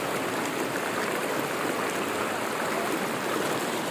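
Strong river current rushing past at Tanay, Rizal, a steady, dense roar of flowing water that fills the whole stretch without letup, close and loud with no talking.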